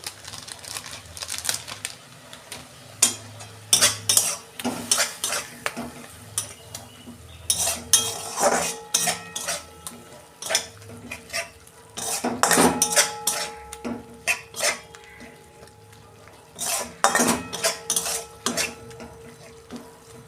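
Spice paste is stirred and sautéed in a metal pan, a close run of scraping and clinking from a utensil against the pan, coming in uneven bursts with quieter gaps between.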